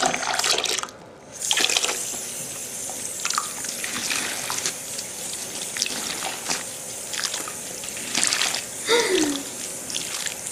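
Tap water runs steadily while a dog gets a bath, a continuous splashing flow with brief drips and splatters, fairly close and alone without talk.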